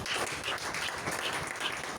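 A church congregation applauds during a French-language sermon, a steady, dense wash of many hands clapping together, moderately distant and continuous throughout.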